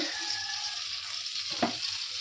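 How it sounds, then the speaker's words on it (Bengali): Brinjal slices fry in a pan at home, a constant soft sizzle with one brief clatter of stirring partway through. "এখন এখানে বেগুন ভাজাটা করছি"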